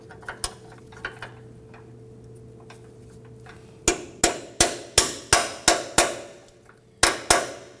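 Hammer tapping an alignment pin onto the frame of a 2015-2020 Ford F-150 during a camber kit install: a few light taps, then a steady run of about ten sharp metallic strikes close by.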